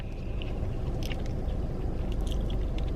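Crunchy chewing and biting on a Shake Shack spicy fried chicken sandwich with a crisp coated outside, soft chicken, bread and coleslaw, close and steady for the whole stretch with no talk.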